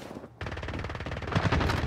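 Rapid automatic gunfire in the Call of Duty Warzone video game, a dense burst of loud machine-gun shots following a brief pause, continuing without speech.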